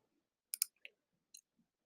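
Several crisp mouse clicks while saving in the WeVideo online editor: a quick double click, a single click, then another light click, close and isolated against silence.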